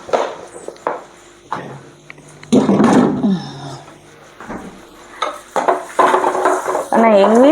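Food is stirred and mixed in hot oil in a metal pan on a home stove, with a spoon scraping and clinking against the pan in irregular close bursts over a faint sizzle.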